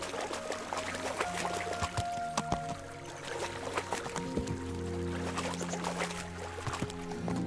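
A horse wades through water in the video game Kingdom Come: Deliverance, with splashing and sloshing bursts over tonal game music and ambient sound at moderate level.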